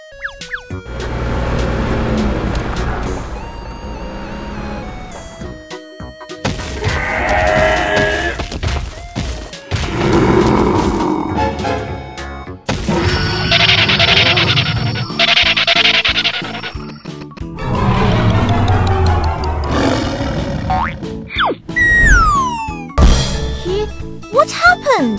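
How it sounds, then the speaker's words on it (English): A Tyrannosaurus Rex that has fallen into a pit at a digging site with an excavator and truck roars, giving repeated loud, drawn-out bellows mixed with other effects throughout. "It's a Tyrannosaurus Rex. It fell into the pit."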